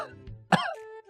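A single short, harsh cough-like burst from a voice imitating a goat's cough, with a nasal, bleating tail after it.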